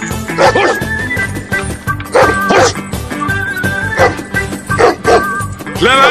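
A dog barks loudly and close by in repeated bursts of two or three sharp barks with yelps between them, during a tense scene of shouting and commotion.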